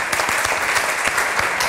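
Studio audience at a Tunisian quiz show applauding steadily, a dense wash of clapping that holds for the whole short stretch.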